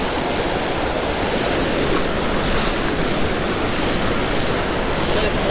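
Floodwater rushes over a washed-out road in a broad, continuous roar, loud and close with no break, like heavy surf or a waterfall.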